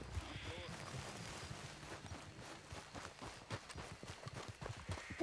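Horse hooves clip-clopping at a walk in Red Dead Redemption 2, a steady irregular patter of hoofbeats under background game ambience and some speech.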